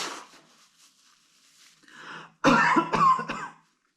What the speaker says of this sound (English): blow your nose and cough into a tissue